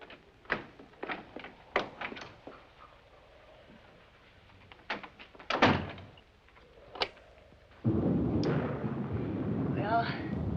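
Door being closed in a 1959 horror film: a series of sharp knocks and thuds, then a loud heavy slam, followed by a sustained rumbling wash of noise toward the end.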